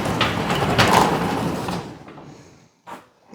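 A garage door at a waterfront lakeside cabin slides open with a loud rumbling rush that fades out. A short thump follows after a brief gap.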